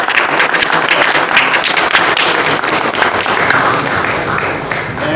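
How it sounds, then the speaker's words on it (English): An audience at an art talk applauds steadily, a loud, dense wash of many hands clapping that holds evenly for several seconds before easing slightly at the end. "Let's give John a round of applause."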